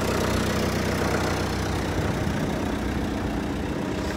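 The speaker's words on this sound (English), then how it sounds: "I just wanted to post a video to show the hydraulics working." A Case 480B backhoe with two leaking hydraulic cylinders runs its engine at a steady, loud idle up close, a continuous low drone with no distinct hydraulic whine standing out and no voices.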